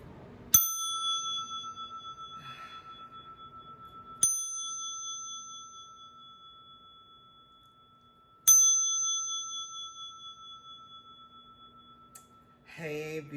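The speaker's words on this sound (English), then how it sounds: "I'm going to start this video by ringing my bell to clear the energy" A small bell is struck three times at slow, even intervals, each bright ring decaying into a long sustained tone, followed at the end by a brief voice.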